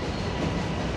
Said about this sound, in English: Now we got the train coming.